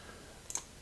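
A couple of quick, soft computer mouse clicks near the end of a short quiet moment, close and isolated.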